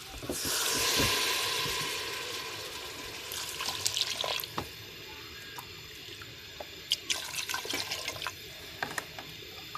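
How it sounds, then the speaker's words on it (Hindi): Water is poured into pakora batter in a home kitchen, a rushing gush at the start that fades into scattered drips, splashes and clinks nearby. "अभी इसमें मैं पानी ऐड करूँगी।"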